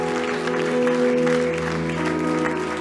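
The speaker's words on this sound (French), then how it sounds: "Est-ce qu'on peut l'applaudir ce matin?" A church congregation claps during a worship service, an even, sustained wash of applause with sustained musical tones beneath it.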